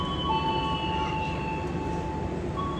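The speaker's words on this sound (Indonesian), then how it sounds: "kereta api Sri Tanjung berangkat dari stasiun Kertosono" The Sri Tanjung passenger train departs Kertosono station with a steady low rumble of wheels and engine, and thin sustained whistling tones drift above it throughout.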